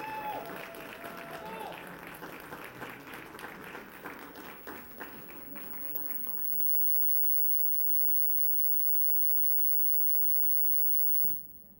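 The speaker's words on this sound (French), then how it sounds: "Vous pouvez l'applaudir." Audience applause at a panel discussion on integration models, a busy wash of clapping for about six seconds that stops abruptly, followed by faint room noise and a few stray sounds.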